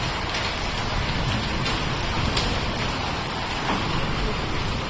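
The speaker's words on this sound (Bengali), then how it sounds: "বৃষ্টির সাথে সাথে বরফ পড়তেছে। বরফ মানে কি শিলাবৃষ্টি যাকে বলে।" Hailstones fall together with heavy rain in Dhaka, producing a dense, continuous drumming patter of drops and ice striking surfaces nearby, loud and steady throughout with no voices.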